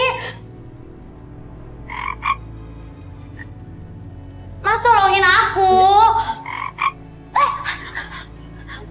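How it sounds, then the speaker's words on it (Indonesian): A frog croaks loudly in a rapid rattling burst mid-clip amid indoor surroundings, with someone speaking anxiously before and after. "Mas, ada kodok."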